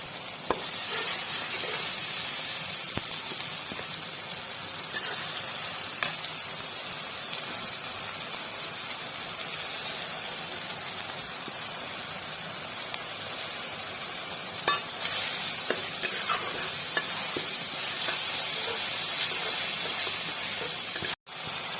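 A tomato, onion and spice paste with ginger, garlic and chilli fries in a pan for an Assamese-style drumstick dish, giving a steady, close sizzle with occasional stirring scrapes throughout and no talking.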